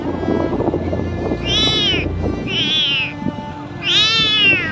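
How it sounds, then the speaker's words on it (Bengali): A kitten riding on a motorcycle along a road meows three times in drawn-out, plaintive cries over the engine and wind rumble. "আর এই তো আমার বিড়ালের বাচ্চাটা, ও খুব কষ্ট পাচ্ছে"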